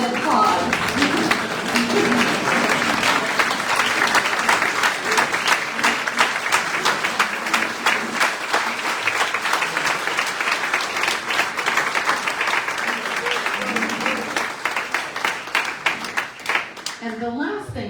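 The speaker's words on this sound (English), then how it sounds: "Everybody stand and applaud." A large audience gives a standing ovation to top teachers at a teachers awards event, with loud sustained clapping that fills the whole stretch and tapers slightly near the end.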